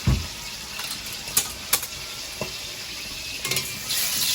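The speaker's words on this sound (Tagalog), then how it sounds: "Siyempre, gigisa yan" Cooking oil sizzles and fries in a pan while adobong labong is sautéed, with a steady soft crackle broken by a few sharp clinks of a utensil against the pan.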